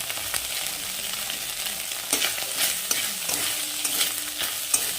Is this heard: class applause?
no